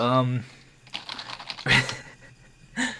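Loud typing on a computer keyboard, rapid clattering keystrokes under a brief voice at the start, with a few sharper taps toward the end.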